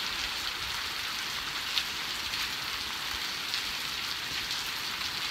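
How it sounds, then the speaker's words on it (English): Rain falling outdoors, a steady, even hiss of drops pattering on surfaces with no pauses and no voices over it. "Out here in the rain."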